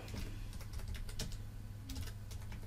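A computer keyboard clicks out a reply in irregular bursts of keystrokes, close and steady over a low background hum.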